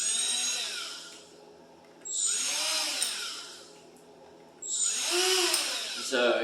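A Milwaukee M12 sander/polisher set up like a die grinder spins at its lowest speed, a close, steady cordless-tool whine that rises in bursts near 2 and 4.6 seconds and eases between them, with no talk over it.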